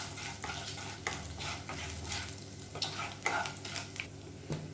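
Whole spices (cumin, cinnamon, cloves and a bay leaf) fry in oil in a kadai, giving a steady close sizzle with a few scraping stirs and light clinks over the top, and no voices.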